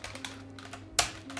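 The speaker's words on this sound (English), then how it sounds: "What the f? My space key is broken right now." The space key on a computer keyboard is tapped several times while it is being fixed, giving a quick, uneven run of close, light plastic clicks with no voices.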